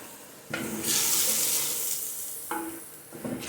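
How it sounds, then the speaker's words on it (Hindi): Haleem being stirred in a clay pot after a full packet of shahi haleem masala goes in, a steady scraping swish with sizzle that starts abruptly and carries on for a few seconds, with brief pauses between strokes. "अब इसको मज़ीद हिलाएंगे हम थोड़ा सा"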